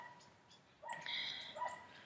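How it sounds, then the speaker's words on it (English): A dog yaps a few times at some distance outdoors, short sharp barks rising over quiet ambient noise with birds faintly around. "That dog is still yapping."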